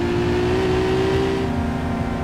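A tuned car in My Summer Car accelerates during a street race, its engine whining in a steady, loud, close rising tone with a rumbling undertone and no talking.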